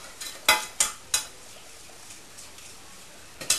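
Chocolate flapjack mixture being stirred in a pan, a soft scraping swirl with a few sharp clacks of the spoon against the pan rim, close and fairly quiet.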